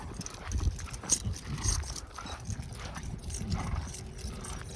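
Horses, including a stallion, moving on a farm, with steady near clip-clopping hooves and shuffling, fairly faint and continuous, with no talk.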